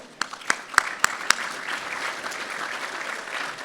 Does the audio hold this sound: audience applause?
yes